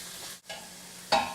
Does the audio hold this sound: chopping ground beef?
yes